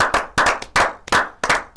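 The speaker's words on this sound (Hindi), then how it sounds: "ताली बजा दी दोनों के लिए।" Loud, close hand clapping honoring javelin athletes Arshad Nadeem and Neeraj Chopra, about five sharp, slightly uneven claps with brief gaps, with no voices.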